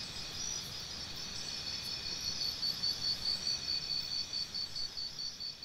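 Steady high-pitched buzzing of cicadas in Santander, Colombia fills the background, fairly faint and continuous, with a soft rhythmic pulsing toward the end.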